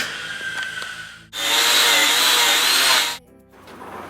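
A power tool whirs loudly for about two seconds while removing leaf spring bolts under a vehicle, with short tool noises before and after it.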